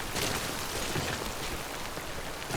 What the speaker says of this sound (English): this rain is really like killing